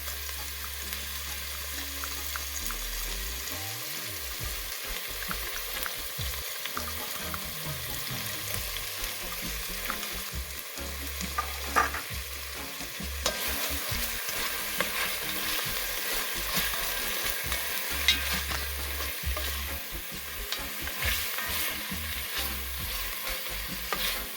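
Garlic sizzles in a pan with a steady, close crackle that runs on at low intensity. Occasional stirring scrapes and clicks break through now and then, with no talking.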